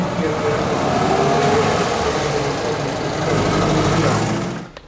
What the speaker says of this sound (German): Der Wagen hat einen 4-Zylinder luftgekühlten Boxermotor, 1255 Kubik und 20 PS.